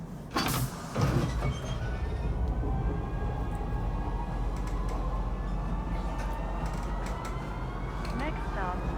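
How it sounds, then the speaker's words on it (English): Train pulling into a station in the space game Star Citizen, a steady mechanical rumble and creaking rolling on throughout, with a couple of louder clunks near the start and a faint rising whine toward the end. "Step away from the platform edge when train is approaching."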